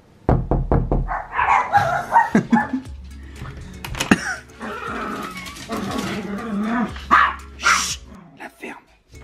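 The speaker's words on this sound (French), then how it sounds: "à chaque fois que je tape à sa porte, c'est un truc de ouf, genre les chiens ils aboient de fou malade" Dogs bark in a loud, agitated flurry after knuckles knock on a door at a shared flat in the morning, with knocks and overlapping barks and growls close by, mixed with voices talking.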